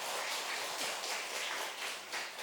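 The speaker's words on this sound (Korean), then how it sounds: "격려의 박수 한번 해줘요." Church congregation applauding after a worship song, a dense, steady wash of many hands clapping at moderate volume with no speech over it.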